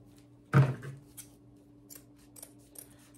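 Scissors make one sharp cut through a gift basket bow near the start, followed by faint rustles and small handling sounds in a quiet room.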